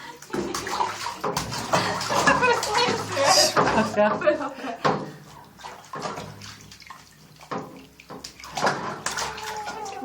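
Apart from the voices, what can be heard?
water running into bathtub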